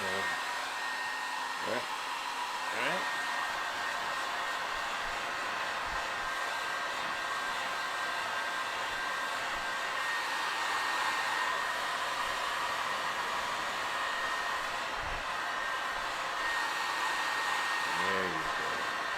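A hair dryer-style hot air gun blows a steady, loud rushing whoosh while softening vinyl model kit parts for a Batman Returns figure, continuous throughout, with a brief spoken word near the start.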